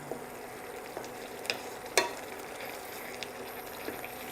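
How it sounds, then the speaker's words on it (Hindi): A yogurt masala fries in ghee in a pan, giving a soft steady sizzle broken by faint scraping clicks from a stirring spoon. "आप देख रहे हो दही रो मसाला अपन अच्छा तलीज गया है। मसाला में चारों तरफ घी छूट गया है।"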